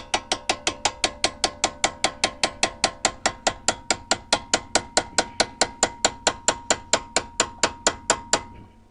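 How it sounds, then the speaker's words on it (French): A ratchet with an extension and socket being cranked at a ball joint while replacing the rear upper suspension arms on an Alfa Romeo 166: some thirty sharp, evenly spaced metallic clicks, close and loud, alone. "prends une petite rallonge de cliquet avec une douille au bout que je positionne"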